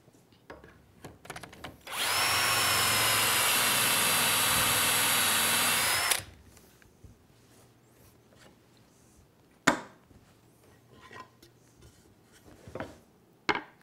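An electric drill bores dowel holes through a self-centering doweling jig into wood stock clamped in a vise, giving one loud, steady whine for about four seconds, followed by light clicks and handling knocks.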